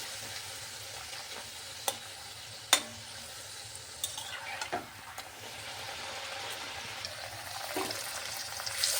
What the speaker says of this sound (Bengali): তেলটা ভালোভাবে গরম গরম করে এই লুচিগুলি দিতে হবে